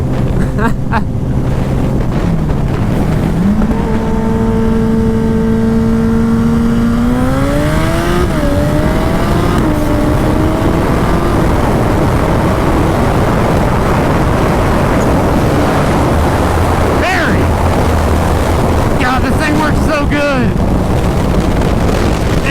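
A 300 hp turbocharged Suzuki Hayabusa motorcycle accelerating hard, its loud engine note climbing steadily through the gears over heavy wind rush, with a rider talking now and then.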